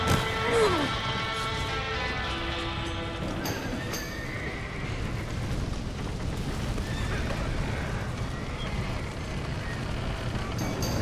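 Horses neigh and whinny loudly in the video game Red Dead Redemption, amid clattering hooves and a chaotic, noisy background, all close and continuous.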